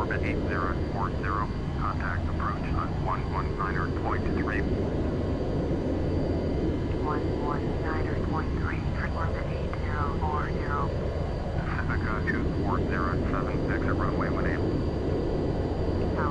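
Boeing 707 jet engines roaring steadily on a long takeoff roll at a high-elevation airport in FSX, a constant loud drone with a person talking over it throughout.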